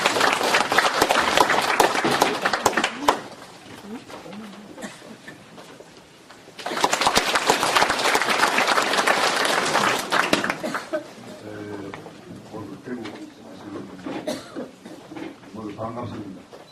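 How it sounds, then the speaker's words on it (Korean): Audience applause at a Korean humanities forum welcoming a former city mayor, two loud bursts of dense clapping separated by a brief lull, then fading into murmuring talk near the end. "큰 박수 부탁드립니다"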